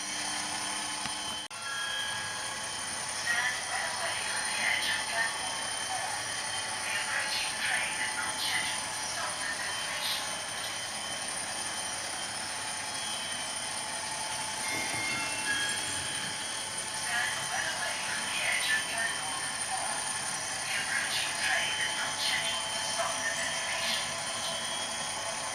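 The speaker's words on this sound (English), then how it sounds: "Sorry, the diesel locomotive." A Bachmann class 57 model diesel locomotive, number 57009, runs steadily along model track with a constant whirring motor drone and faint rail clatter, with people talking over it.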